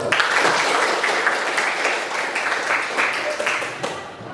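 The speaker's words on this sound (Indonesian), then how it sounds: "kita beri tepuk tangan buat kita semua" Classroom applause from students at the end of a class discussion, a steady dense patter of clapping for several seconds that fades slightly near the end, with voices mixed in.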